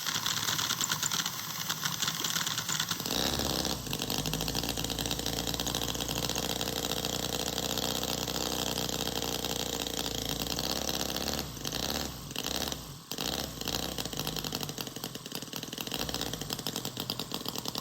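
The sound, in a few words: miniature Harley-Davidson V-twin Knucklehead model engine running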